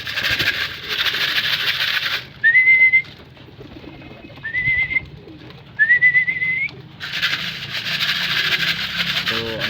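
Pigeons in a loft come in to feed, with soft bird calls and a few clear rising whistles spaced across the clip amid a steady background hum and light rustling, while a person talks.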